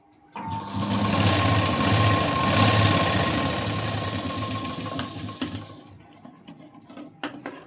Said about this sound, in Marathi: इथे एक आपल्याला कडेला शिलाई देऊन घ्यायची आहे.